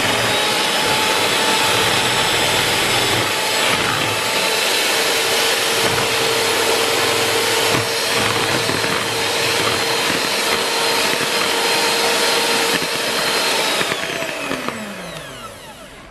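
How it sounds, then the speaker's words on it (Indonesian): An electric hand mixer runs at top speed beating fresh eggs without sugar for a sponge cake, producing a loud, continuous high whine that holds steady, then slows and fades near the end, with no talking. "Sekarang kita mixer tanpa gula, tanpa SP dulu sampai dia berbusa dengan kecepatan yang paling tinggi"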